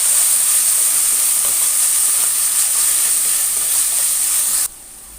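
Vegetables sizzle and hiss in a hot pan after red chilli sauce and soy sauce go in, a close, continuous frying crackle with faint stirring that cuts off abruptly near the end.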